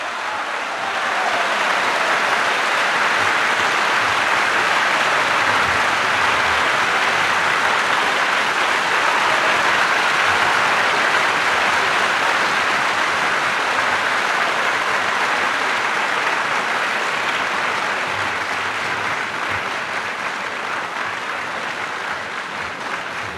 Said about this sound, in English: The crisp accents of the closing chords have been the signal for a vigorous burst of applause from our studio audience